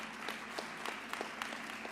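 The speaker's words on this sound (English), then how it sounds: "So let's give a round of applause to Congressman Bowman here today." Audience applause at a New York gun violence prevention event, a brief burst of scattered clapping with a few sharper individual claps over a steady wash of hands.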